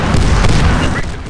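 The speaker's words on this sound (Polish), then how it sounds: "Aha, to jest taki wybuchowy granatnik, dobra." Explosive grenade launcher firing in Medal of Honor Warfighter, a single loud heavy boom with a rumbling low tail, very close and brief.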